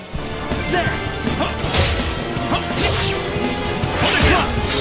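Rapid sword attacks in Tales of Zestiria land as repeated whooshing strikes and crashing impacts, loud and busy, with short shouted battle voices mixed in.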